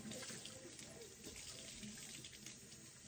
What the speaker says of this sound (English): And wash it off with cold water.